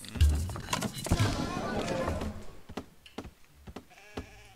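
Sheep bleat in the strategy game Empires Apart, a few short game-sound bleats near the start and end, mixed with someone talking and in-game voice lines.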